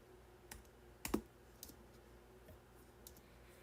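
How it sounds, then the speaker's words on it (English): Sparse, quiet clicks of computer keyboard keys being typed, a handful of irregular taps with one sharper double click near the middle, close by against a faint background hum, with no talking. "Typing is hard."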